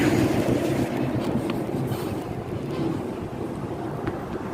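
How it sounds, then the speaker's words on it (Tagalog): Strong wind buffets the microphone steadily, a loud rushing roar with low rumbling gusts throughout and no talking. "So ayan, medyo mahangin guys."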